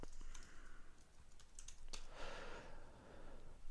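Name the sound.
typing on a computer keyboard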